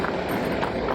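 Horse hooves clip-clopping steadily on a road in Jammu and Kashmir, near the Tawi river, as a baby horse approaches; a continuous, fairly close patter of hoofbeats over wind and outdoor noise.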